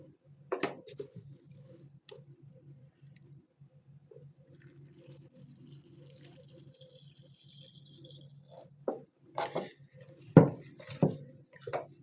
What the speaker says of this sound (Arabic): هنحط بقى الميه.